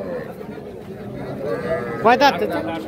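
A cow or calf moos briefly at a livestock market in Ambari, a short harmonic call rising over steady crowd chatter and market noise, with voices talking nearby throughout.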